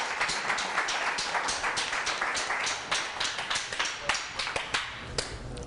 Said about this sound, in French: Donc applaudissez seulement.